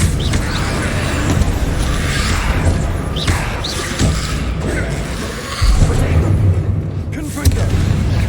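Repeated booming blasts of the Confringo spell in Hogwarts Legacy, several heavy thuds and crashes spread over a busy scene of combat effects, loud and close.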